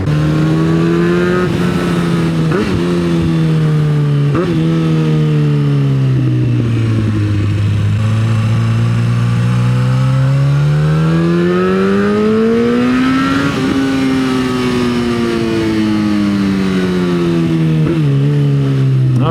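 A Yamaha FZ1 motorcycle rides in first gear, its close, loud engine whine rising and falling in pitch as the rider rolls the throttle on and off along a road.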